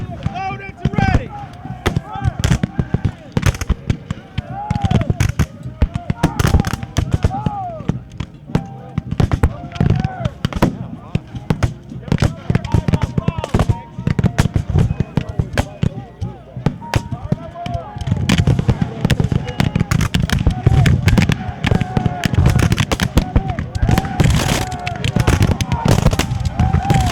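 Musket volleys and artillery fire at a Civil War battle reenactment of Chickamauga, with dense, rapid, loud bangs and booms crackling throughout, mixed with shouted commands and cheering voices.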